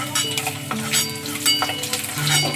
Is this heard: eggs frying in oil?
yes